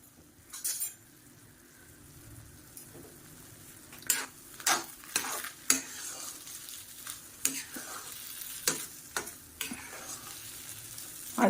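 A spoon scrapes and knocks against a pan while rava kesari, a semolina sweet, cooks over a soft sizzle, the strokes coming in irregular, fairly close bursts with no speech.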